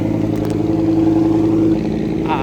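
The engine of the fishing boat KM Putra Mandiri chugs loudly and close in a steady mid-pitched drone, moving slowly through silting shallows, with a faint clatter running under it.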